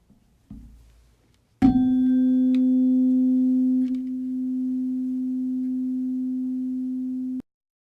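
Two tuning forks mounted on wooden resonance boxes ring out together after a sharp strike, a steady pure hum sustained loud and clear for several seconds before stopping abruptly.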